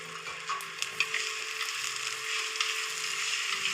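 Sliced onions stirred and fried in a pan while squid is being cooked, a steady close sizzle with occasional soft scrapes and taps of the spoon, no voices.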